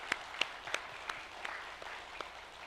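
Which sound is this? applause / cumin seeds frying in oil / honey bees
applause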